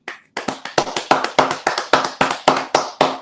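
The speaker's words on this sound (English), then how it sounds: "Round of applause to the Sutton family." Crisp, evenly spaced claps sound close by at an auction family show, about a dozen sharp strikes in a quick steady rhythm after a brief pause at the start, likely one or two people applauding the Sutton family.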